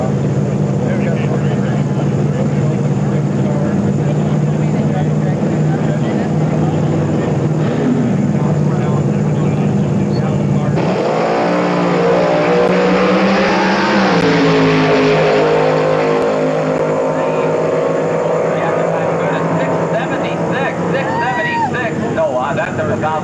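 Drag racing cars staging and launching at the 1994 Hot Rod Reunion in Bakersfield, California: loud engine drone, then a sharp surge of revving roar midway that sweeps upward as cars launch, with announcer speech over it.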